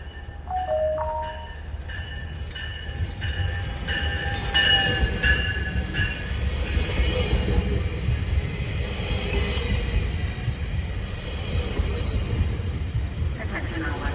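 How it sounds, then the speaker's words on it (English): A GO commuter train pulls into Oakville station in a heavy snowstorm, its steady rumble and wheel noise filling the scene, with a squealing and chiming tones early on and a public announcement voice heard over it. "The train arriving at platform 1 is our delayed 423 train."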